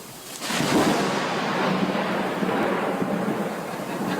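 A loud, sustained rumble of thunder rolls in after a brief quiet moment and keeps booming broadly for several seconds, with no voices.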